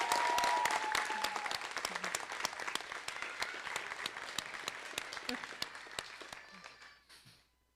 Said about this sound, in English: Please join me in a round of applause for our faculty and staff